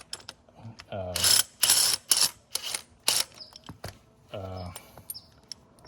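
A ratcheting wrench clicks in quick bursts on a spring compressor during a Subaru Crosstrek front spring install, sharp close ratchet sounds with pauses between, alongside someone talking.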